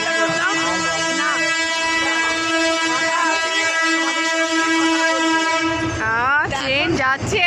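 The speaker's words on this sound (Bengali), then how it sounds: "ট্রেন যাচ্ছে, আওয়াজে ট্রেন যাচ্ছে এখন এই লাইনে।" Train passing along a railway line beside a station road, its horn blaring steadily and loud for about six seconds before the horn cuts off into rumbling wagon noise and clatter.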